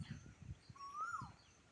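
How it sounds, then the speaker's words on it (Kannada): Koel (cuckoo) calling in green hills at Madhugiri, one brief faint rising whistle over quiet rustling outdoor background. "ಕೋಗಿಲೆ ಕೂಗ್ತಾ ಇದೆ"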